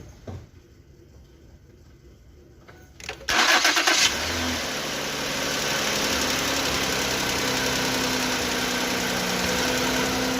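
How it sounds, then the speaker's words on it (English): A 2008 Mercury Sable with a 3.5 Duratec V6, just after an oil change, cranks briefly and fires up, then settles into a steady, even idle heard close and loud. "I'm gonna go ahead and start it. Let it run, check for leaks"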